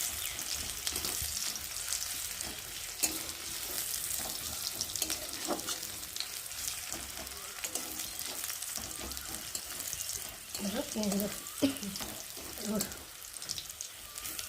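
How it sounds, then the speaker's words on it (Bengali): Garlic frying in oil in a home kitchen, a soft continuous sizzle with occasional stirring scrapes and clinks, fairly quiet throughout. "যতক্ষণ না রসুনের একটু গন্ধটা যাবে ততক্ষণ রসুনটাকে ভালো করে ভেজে নেবো"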